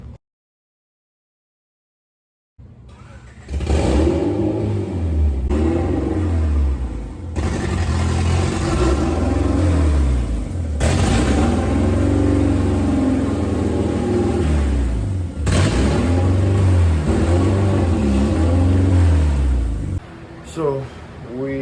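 Engine of a mother's car idles and revs steadily as the car is moved out of the way, a loud, continuous low rumble with rising and falling revs across the whole stretch.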